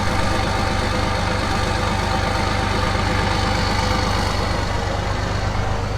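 A farm vehicle's engine running at fast idle after an hour at 2,500 RPM, a steady, loud, continuous drone with an even low throb that holds unchanged throughout, no voices over it.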